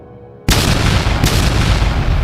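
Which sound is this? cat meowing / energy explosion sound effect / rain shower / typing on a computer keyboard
energy explosion sound effect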